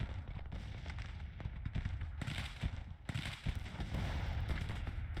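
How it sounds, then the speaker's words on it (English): Artillery booms and scattered cannon and musket fire in the Civil War strategy game Grand Tactician, a steady rumble of distant battle with repeated muffled blasts and no voice over it. "A lot of artillery here."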